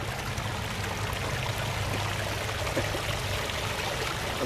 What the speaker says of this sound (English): You got the skimmer down here, so the water's just starting.